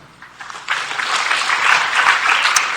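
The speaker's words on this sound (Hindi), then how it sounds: "इनके लिए तालियां" Applause from an audience at a results and certificate distribution event in Aurangabad, India, starting faint and swelling into steady, moderately loud clapping for a few seconds.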